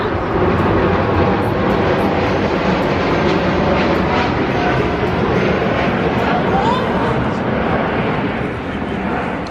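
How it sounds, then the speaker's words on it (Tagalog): An airplane passes overhead with a steady, loud, broad roar that fills the whole stretch and stays fairly even throughout, with faint voices in the background. "May dumaan na aeroplano."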